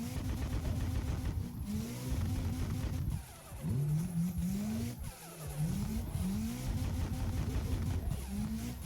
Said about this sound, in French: Là, le but c'est de drifter là.